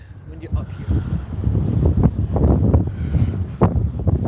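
Wind buffets a microphone outdoors in Dundee, loud rumbling gusts that rise and fall throughout, with a voice speaking faintly underneath.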